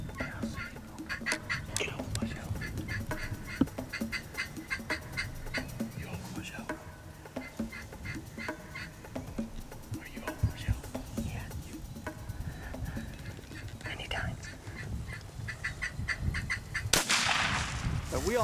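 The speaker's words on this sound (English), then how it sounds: "This turkey's coming." A wild turkey calls during a spring turkey hunt, repeated yelping notes from the bird and hunters' calls scattered across a noisy outdoor scene, with a sharp bright burst near the end.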